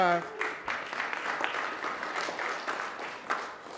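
A campus crowd at Amherst claps in scattered, uneven applause at moderate volume, opening under a speaking voice and thinning toward the end.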